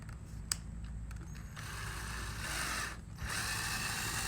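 A power drill drives a deck screw through one skeleton bone into another, a close mechanical whirring and grinding that builds and steadies over a few seconds, broken by a brief dip before continuing.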